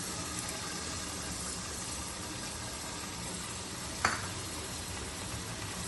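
Onions hitting hot oil in a pan, a steady low hiss of frying that carries through, with one brief clink of a utensil midway; no one talks.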